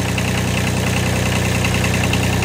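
A tractor engine idling, a steady rhythmic chugging drone with a low throb and slight knocking, loud and close, running alone without speech.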